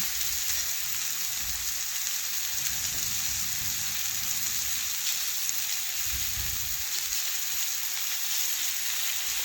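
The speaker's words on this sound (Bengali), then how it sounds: "আমি দুই থেকে তিনবার এটা নাড়াচাড়া করে ভেজে নেব" Pointed gourd (potol) pieces frying in hot oil, turned two or three times, give a steady, close sizzle with soft crackle throughout and a few low stirring thumps underneath.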